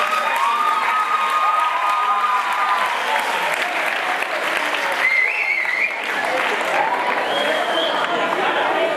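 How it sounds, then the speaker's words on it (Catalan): Sustained audience applause from a festival crowd, dense and steady throughout with scattered whistles and cheers rising above the clapping. "Te aplaudo."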